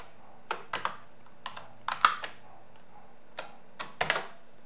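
Scattered keystrokes on a computer keyboard, typed in short, irregular bursts of a few crisp, close clicks separated by pauses, in a quiet room with no talking.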